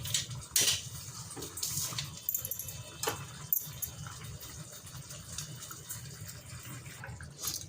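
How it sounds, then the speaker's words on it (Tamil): Cooking water drained off boiled cauliflower in a home kitchen, a rushing, splashing hiss broken by a few metallic clinks and knocks from the pan, close and moderately loud, with no speech. "இப்போ வந்து தண்ணியை வடிகட்டியாச்சு"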